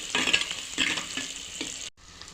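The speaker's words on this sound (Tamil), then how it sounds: "வெங்காயமும் பூண்டும் வதங்குது" Onions, small shallots and garlic sautéing in oil for a fish curry, a close, busy sizzle with repeated stirring strokes in a rhythmic series, then a sudden brief drop before the frying resumes.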